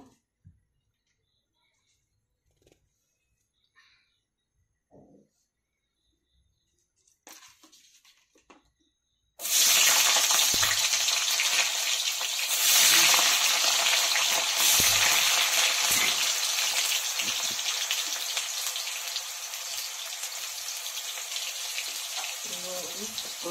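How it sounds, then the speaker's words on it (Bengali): Potatoes drop into hot oil in a pan and burst into a loud, dense, continuous sizzle after several seconds of near silence with a few faint knocks, the hiss easing only slightly as it continues. "এখন আলুগুলোকে ভেজে নিব।"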